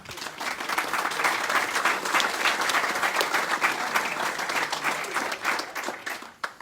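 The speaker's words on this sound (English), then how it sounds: "So a round of applause to farmers." Audience applause at a recycled-rides car presentation honoring veterans, steady dense clapping from a crowd that holds strong throughout and tapers slightly near the end.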